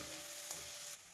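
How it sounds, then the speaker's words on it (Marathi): Coarsely crushed garlic frying in oil, a steady close sizzle with a faint stirring scrape partway through, short and even without any voices. "लसूण जो बारीक ओबड वाटलाय तो लसूण टाकला. चांगला तळून घ्यावा लागेल."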